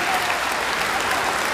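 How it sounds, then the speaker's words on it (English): A school assembly audience claps hands at a middle school, a dense, steady burst of applause filling the space without pause, loud and close. "Clap your hands, that's number three."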